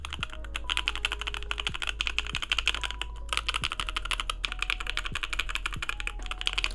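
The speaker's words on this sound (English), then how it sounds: "Clacky it sounds like a clack. Thocky it's a bit more lower pitched." Steady typing on a Sunsetter mechanical keyboard with a deeper, thocky keystroke sound, a continuous fast run of close key presses with brief pauses and no talking.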